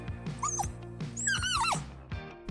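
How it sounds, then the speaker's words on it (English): A Nova Scotia Duck Tolling Retriever lets out shrill, excited yelping barks and whines in quick bursts, close and fairly quiet, with high squeaky tones rising and falling between barks. "they have a surprisingly loud, shrill bark when they get excited"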